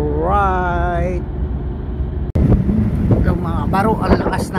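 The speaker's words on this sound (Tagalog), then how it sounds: "ang lakas ng hangin, bad weather" Strong wind gusts buffet the microphone in bad weather by the sea, with a steady low roar throughout and boat noise mixed in, while a person talks over much of it.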